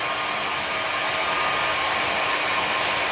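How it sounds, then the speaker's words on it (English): A hair dryer blows on hair extensions with their tracks being dried, a loud, steady, close whir held without a break and no voices. "Now we'll take the dryer and make sure that those tracks are dry."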